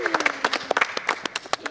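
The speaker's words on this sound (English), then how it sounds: "Give him a round of applause" A small studio group gives a round of applause for a contestant after a challenge in a competition show. Scattered, uneven claps sound close by, mixed with talking voices, for under two seconds.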